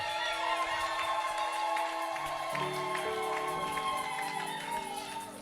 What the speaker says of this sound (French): Où est la maman qui pousse des cris de joie?